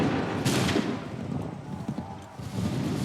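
Musket volley gunfire in the video game Assassin's Creed 3 during an assault on a barricade, a few sharp cracking bursts over a busy battlefield din, with no talk.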